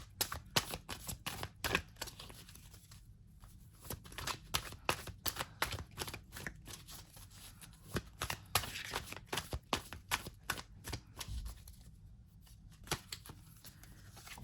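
A deck of Crystal Power Tarot cards being shuffled up close, producing a rapid, steady stream of crisp card clicks and flutters with brief pauses, and no talking.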